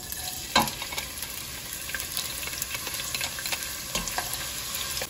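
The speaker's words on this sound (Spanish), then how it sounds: "Se pone una cazuela en la estufa con un poquito de aceite, unas 3 cucharitas, y luego le vamos a agregar cebolla para guisarla" Onion frying in a few teaspoons of oil in a clay pot on a stove, a steady close sizzle and crackle with a few sharper pops, no voices.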